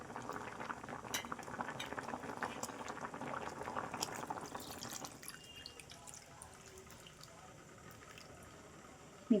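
Pumpkin curry boils in a pot with dense bubbling and popping for about five seconds, then settles to a quieter, steady simmer.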